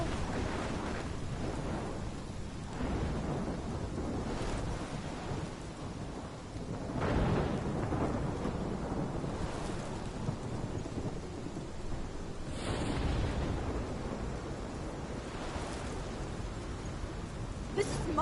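A thunderstorm in the video game Life Is Strange, with steady heavy rain and repeated rolling thunder swelling and fading throughout, dense and continuous, with faint voices beneath.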